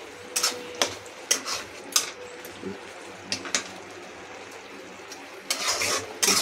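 A spoon stirs grated coconut with coarsely crushed cashews and almonds in a tall pot, giving scattered scraping clinks and soft rustles at an irregular pace, close by over a faint low hum.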